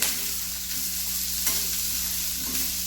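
Four medium chopped onions sauté in a spoonful of oil for a paneer butter masala gravy, giving a steady, close, even sizzle that continues without a break, with no talking.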